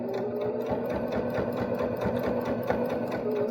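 A Baby Lock Jazz II sewing machine stitches quilt binding with a fast, steady mechanical whir and rhythmic needle clatter, close and continuous for several seconds without talking.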